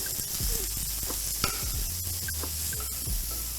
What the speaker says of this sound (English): Hot pan. In with a knob of butter. Go straight in.